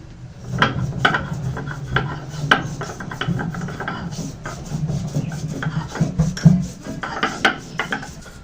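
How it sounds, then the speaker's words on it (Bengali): Ginger is ground into paste on a grinding stone, producing rhythmic, gritty rubbing and rolling strokes that repeat steadily and close by, with occasional knocks of stone on stone. "তবে আদাটা প্রথমে বেটে নিচ্ছি।"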